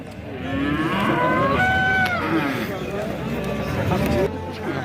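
Cattle moo repeatedly at a livestock market in Mastchoh, long drawn-out calls over a busy crowd murmur, some close and some farther off.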